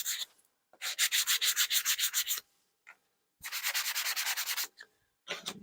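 Wood edges being sanded by hand in two bursts of quick, even back-and-forth rubbing strokes, close and clear, separated by a short pause, with no talking.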